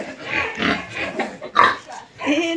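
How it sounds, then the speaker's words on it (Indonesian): White pigs on a pig farm oink and grunt up close, several short loud snorts in an uneven rhythm, with a sharper squeal-like grunt partway through. "Itu babi kayak apa? Itu babinya. Lucu kali babinya."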